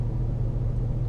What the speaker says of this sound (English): I'm actually driving right now